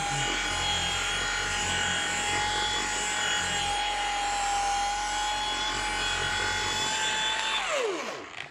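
A machine polisher whirs steadily at its lowest speed setting on car paintwork, a constant high-pitched motor whine that holds for several seconds and then winds down as the machine stops near the end.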